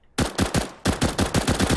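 CZ pistol in CS:GO firing rapid bursts of sharp, punchy shots, about a dozen in quick succession with a brief gap partway through, loud and close.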